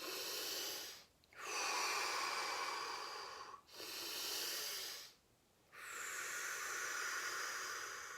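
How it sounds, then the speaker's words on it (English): Quick deep breaths during a chair yoga session, three long breathy exhales separated by short inhaling gaps, close and soft, with no talking. "Let's just take a couple really quick breaths just to get ready."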